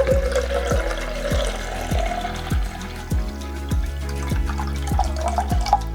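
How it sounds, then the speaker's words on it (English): Half a litre of water pours into a camping stove pot for a Primus Lite+ versus Jetboil Flash boil test, with a steady close splashing flow and a regular run of soft dripping knocks throughout. "let's put half a litre of water in here."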